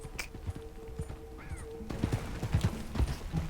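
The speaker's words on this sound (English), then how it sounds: "Yeah, it's just a guy on a horse." Horse hooves clip-clop in the video game Red Dead Redemption 2 as a rider passes nearby, with a faint whinny and steady thuds that grow louder toward the end, heard alone over soft ambient background.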